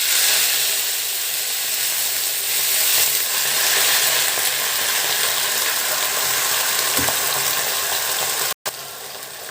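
Amaranth leaves frying in hot oil with urad dal, mustard seeds and dried red chilies give a loud, steady, even sizzle and hiss throughout, broken by one brief cut near the end.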